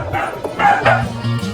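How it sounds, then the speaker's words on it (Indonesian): A dog yips and barks several times in quick succession, close and fairly loud, with whimpering tones between the barks; the barking comes from inside a van during a police stop. "David kembali bernapas lega usai mengetahui sumber gonggongan anjing adalah orang-orang Meksiko yang menumpang secara ilegal di kolong mobilnya."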